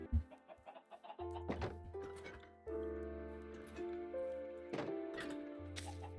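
Chickens in the video game Minecraft cluck and squawk in short repeated bursts over a quiet tonal music background, close and clear.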